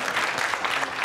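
A brief burst of audience clapping and cheering for the negative team at a speed debating event, dense and steady across the moment.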